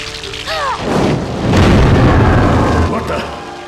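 A creature's flammable blood erupts in a loud, rumbling explosion in a Resident Evil action film, a booming burst that swells and holds for a couple of seconds, with brief voices just before.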